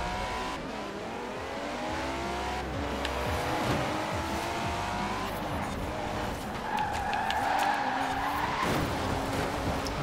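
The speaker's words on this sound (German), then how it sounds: "Jetzt bin ich hier gerade lang gedriftet" A car drifting in Forza Horizon 4, a video game, revs its engine with rising and falling whines while tires squeal in long skids, loud and close, ending in a sustained high screech.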